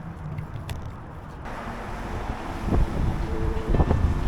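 Breezy outdoor wind gusting across the microphone along a trail during a half marathon, a steady rumbling buffet that swells louder toward the end, with no talking.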